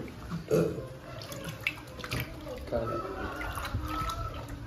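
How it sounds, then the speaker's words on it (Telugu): Scrubbed bommidayilu fish are washed by hand in water, with splashing and dripping close by, while a person talks throughout. "ఇప్పుడు ఏంటంటే నీట్గా కడుగుతున్నాము"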